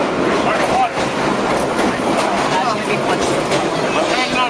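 Vintage New York City Low-V subway train on a Yankee Stadium special run, rumbling and clattering loudly and steadily along the tracks, with faint voices of riders in the background.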